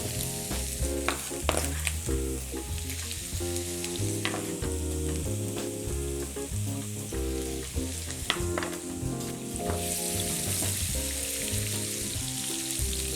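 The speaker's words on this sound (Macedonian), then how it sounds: "Прво ќе го пропржам малку морковот, бидејќи него му треба малку повеќе време." Carrot sizzles and crackles loudly in a very hot wok for Chinese-style fried rice with egg, a continuous close frying hiss with occasional stirring clatter over faint background music.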